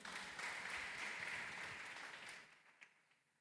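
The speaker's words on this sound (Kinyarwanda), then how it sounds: "Amashyi menshi cyane" Applause from a congregation at a church ceremony welcoming new members into the Father's Union, a dense wash of clapping that tapers off and fades near the end.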